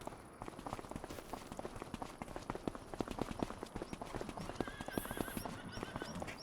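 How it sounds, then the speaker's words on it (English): Horses in the Farming Simulator 25 video game: steady clip-clop hoofbeats with an occasional whinny, moderately loud and continuous, with a soft rain-like patter behind them and no talking. "There's horses."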